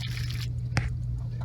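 Water and loosened debris drain out of an RV water heater tank, giving a steady low gurgling flow with a single sharp wet squish and drip-like splashes standing out midway.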